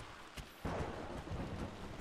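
Thunder and rain in the video game Rise of the Tomb Raider: a soft rain hiss with a sudden low rumble of thunder rolling in partway through and lingering, fairly faint, with no voices.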